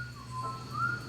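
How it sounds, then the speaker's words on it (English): Eerie whistling at night near a forest camp, a slow, thin tune with wavering tones that rise and fall, faint and alone against a low steady hum. "Whistling."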